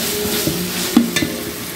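Ginger garlic paste sautéed with rice in a large pot for ghee rice, heard as a steady frying hiss with a few soft knocks and scrapes of a stirring ladle, close and with no voices.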